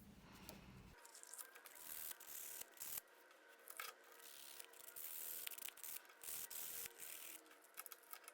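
Hand sanding of small wooden quilt pieces, rubbing edges soft with quick, scratchy strokes in short bursts, close and fairly quiet, with brief pauses between passes.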